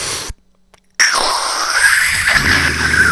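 A short pause, then a harsh, high, rasping shriek from a human voice imitating a creature, held for a couple of seconds, loud and close.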